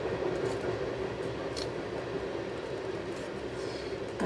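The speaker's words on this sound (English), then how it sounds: "Heavier train than I thought. Maybe that's not an Amtrak." A heavy train rolls past on nearby tracks, a steady broadband rumble and hiss that holds at an even loudness for several seconds with no horn, heard alone without talk.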